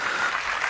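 Short burst of audience applause at a speech gathering, a dense steady patter of many hands clapping at moderate loudness with no talking.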